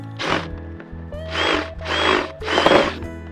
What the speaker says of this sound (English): We need to drill a 1/2-inch hole for our irrigation tubing to run into.